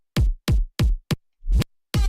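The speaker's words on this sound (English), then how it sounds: "And then we have like the normal kicks." Electronic kick drums programmed in FL Studio, five deep booming thumps with long low tails in an uneven pattern, close and loud with nothing else playing.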